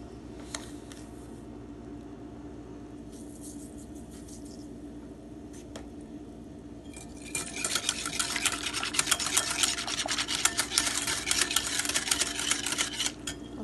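A spoon stirs instant yeast into a dough mixture for chicken and vegetable chaussons, first with quiet scrapes and clinks over a steady hum, then a busy, continuous scraping swirl against the bowl.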